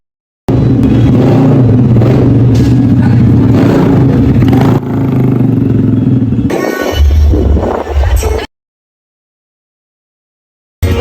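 Street motorcycle ridden at a motor show in Kalibo, Aklan, its engine loud and close with steady throttle and a rougher revving burst near the end, then a sudden cut to silence.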